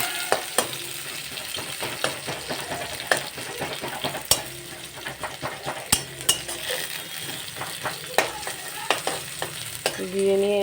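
Fat frying in hot oil with ground spice paste in a pan, a steady close sizzle under repeated sharp scrapes and clinks of a spoon stirring against the metal, with no talking.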